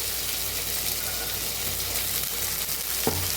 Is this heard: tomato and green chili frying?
yes